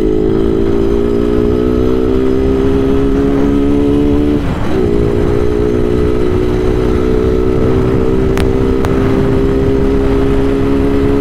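Bajaj Pulsar 220F motorcycle accelerating along a road, a loud, steady close-up engine drone holding high revs, with one brief dip in pitch near the middle before climbing on.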